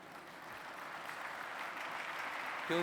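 Applause from a conference audience at the G20 Interfaith Forum welcome session in Pune, India, a steady, fairly distant wash of many hands clapping that holds evenly throughout.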